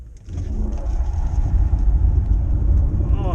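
A Genesis GV60 electric car launches hard with its wheels spinning up to 80 km/h, giving a steady, loud low rumble and road roar that builds slightly throughout, with no speech.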